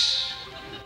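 A performer's voice imitates a dash punctuation mark with a short, bright hissing burst that fades over under a second, alone and close.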